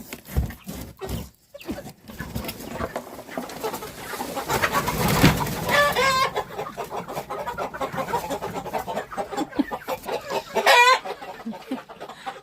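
Chickens and other small farm birds cluck and squawk in agitation during morning chores after a box is moved, a busy close chorus of overlapping calls with bursts of louder alarm.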